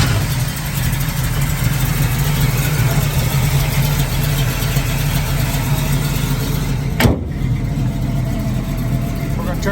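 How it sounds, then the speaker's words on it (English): A 1969 Hugger Orange Camaro SS with a 350 V8 and four-speed idles close by in a steady, low, even rumble, with a brief click near the end. "Car starts and runs really well."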